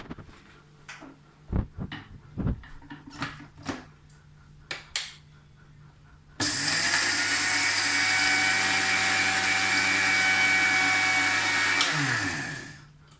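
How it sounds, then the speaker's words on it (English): A small mixer jar grinds roasted flaxseed for a dry chutney. A few knocks and clicks come first, then the motor starts abruptly with a loud, steady whir for about six seconds and winds down at the end. "We can take the small mixer jar so that we can cool it and grind it."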